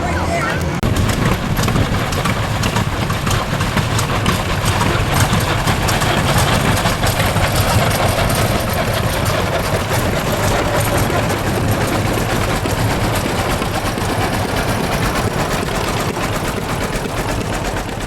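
Tractor engines idle together at a world-record tractor parade in Dresden, a loud, steady low rumble that fills the whole stretch with no break.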